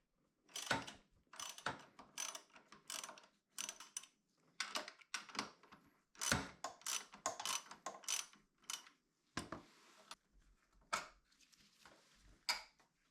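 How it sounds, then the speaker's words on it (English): Ratchet wrench loosening the two flange bolts behind the headlight of a Honda CB500X motorcycle, a run of quick clicking bursts close by, broken by short pauses. "Next, I'll remove the two flange bolts located behind the headlight."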